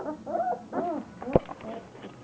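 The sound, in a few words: three-week-old puppies whimpering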